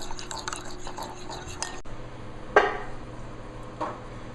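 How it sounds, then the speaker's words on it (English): A ginger mustard sauce mixture being stirred: soft, brief clinks and scrapes of a utensil against a bowl, one sharper knock standing out among light, fairly close handling sounds. "let's just mix this all up, make it a one consistent sauce"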